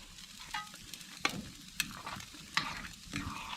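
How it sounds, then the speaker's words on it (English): Crisped ingredients are stirred into potato soup on a wood cook stove: soft frying sizzle under scraping strokes, punctuated by a few sharp utensil clacks, close and fairly quiet. "Stir that into our soup."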